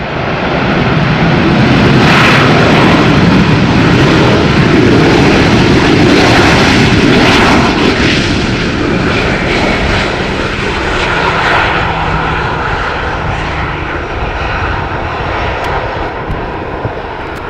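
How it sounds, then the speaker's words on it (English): An El Al Boeing 737 arrives at Amsterdam Schiphol Airport on runway 18R in rainy, windy weather. Its jet roar is loud and steady, then slowly eases as the plane passes. "Boeing 737 from El Al."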